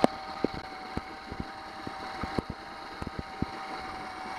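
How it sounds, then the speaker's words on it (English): A Honda 8 hp outboard engine idles steadily with a low hum, broken by sharp clicks and knocks, alone and fairly faint with wind noise in the background. "Okay, so now we're ready to uh, stop this engine"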